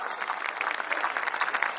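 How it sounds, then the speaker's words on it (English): A school audience gives the football team a round of applause, a faint, steady patter of clapping heard alone, brief and somewhat distant. "I request the audience to give them a huge round of applause."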